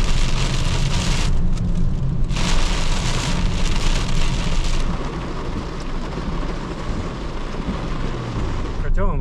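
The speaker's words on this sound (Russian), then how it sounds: "Мы резко попадаем в дождь. Причем сильный такой." Heavy rain suddenly pours down, a thick roaring hiss that drums loudly for the first half and then eases slightly, with a voice briefly heard near the end.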